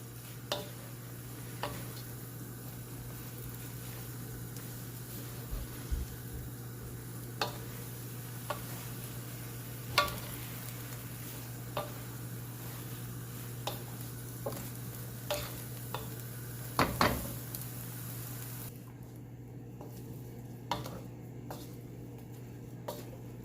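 Onions are stirred into a jerk chicken mixture in a pan with a utensil, giving sparse, quiet scraping taps at irregular intervals over a low steady hum, with no talking.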